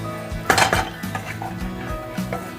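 Roasted peanuts being mixed into samosa stuffing in a bowl, with a loud clatter of utensil against the dish early on and softer scraping, stirring knocks after it. No talk.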